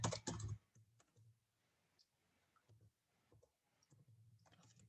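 Keys on a computer keyboard clatter as a project name is typed, a burst of quick clicks followed by sparse, irregular taps, quiet and close with no voice.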